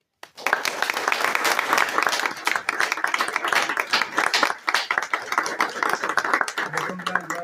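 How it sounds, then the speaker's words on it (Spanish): Strong, sustained applause from a gathered audience at a retreat, dense steady clapping that tapers slightly toward the end. "a quien les pido, por favor, un fuerte aplauso"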